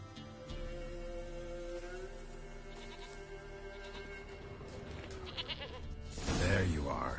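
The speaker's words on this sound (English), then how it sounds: "Here, goat." Goat bleating in The Witcher 3 video game, a distinct cry near the end rising over steady game music and background ambience, with a voice speaking earlier.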